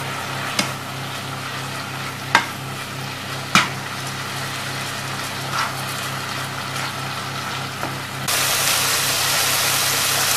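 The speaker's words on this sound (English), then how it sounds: "I'm going to leave the bacon to fry for about 10 minutes with occasional stirring" Bacon sizzles in a pan with occasional stirring, a steady crackling hiss broken by a few sharp clicks of the utensil, the sizzle swelling louder toward the end.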